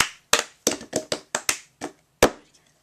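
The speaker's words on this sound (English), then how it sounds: "you're going to hit the top of your cup three times" Cup song rhythm played alone with hands and a cup: sharp claps and cup taps in a quick, uneven pattern of about nine crisp hits, close and loud, then a fading tail.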